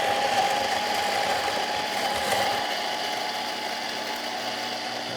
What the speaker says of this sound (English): hot start means the grinder is already running before you put the beans in there